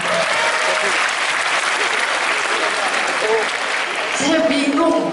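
A comedy show audience claps steadily and loudly for the whole stretch, a dense wash of applause, with a voice cutting in over it near the end.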